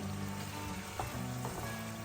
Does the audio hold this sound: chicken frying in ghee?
yes